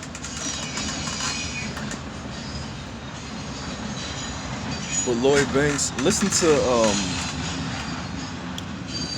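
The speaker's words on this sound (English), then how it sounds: "Is that train too loud?" A train rolls past close by with a steady, loud rumble and a brief metallic wheel squeal midway, while someone talks over it.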